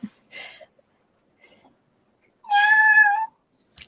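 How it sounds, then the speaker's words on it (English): A house cat lets out one drawn-out, tonal meow, loud and close, with a few small soft rustles and squeaks around it in an otherwise quiet room. "that is one of 3 cats in this house"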